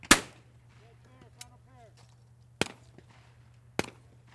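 Shotgun shots with 1-ounce 1290 shells at a clay shooting competition: three sharp, loud reports spaced over a few seconds, with a faint voice between them over a steady low hum.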